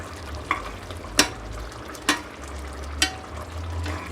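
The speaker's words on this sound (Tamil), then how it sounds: "இந்த மாதிரி நல்லா கிளறி விடுங்க." Fried eggs are stirred into a simmering egg masala curry, four distinct spoon scrapes and clacks against the pan spaced about a second apart over a low bubbling simmer, with no voices.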